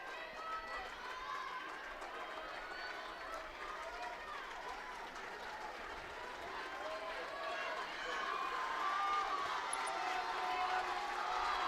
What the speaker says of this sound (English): The USF crowd is on their feet, and they are loud here.